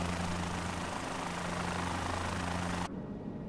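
A simulated helicopter engine runs steadily before takeoff in Microsoft Flight Simulator, a loud droning whine with low tonal hum that cuts abruptly to a quieter idle near the end, with no speech.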